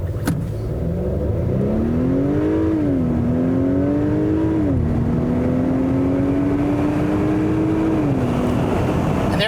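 A 2021 Acura Type S accelerates hard through a 0 to 60 run, its engine note climbing steadily through several gear changes, each marked by a brief dip before the pitch rises again, loud and continuous from start to finish.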